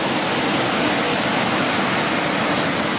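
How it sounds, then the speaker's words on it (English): Victoria Falls thunders as a steady, loud, unbroken roar of falling water, a dense wash of noise that holds evenly throughout with no other sounds standing out. "you have a clearer view of the falls"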